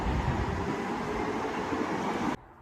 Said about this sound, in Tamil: ட்ரெயின் வந்திருக்கு. இது வந்து டிஎல்ஆர் சொல்லுவாங்க. இது வந்து ஆட்டோமேட்டிக் ட்ரெயின் இது வந்து.